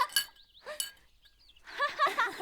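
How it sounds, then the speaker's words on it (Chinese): Glasses clink together in a champagne toast at a festive gathering in a Chinese costume drama, with two bright chimes close together followed by a busier cluster of clinks, at moderate volume with no talk. "让我们干一杯香槟酒"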